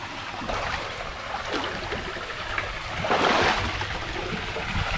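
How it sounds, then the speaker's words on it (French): Small waterfall pouring over slippery rocks in a scenic outdoor spot, a steady rushing hiss of falling water that swells louder midway, heard alone without talk. "Petite cascade sympa."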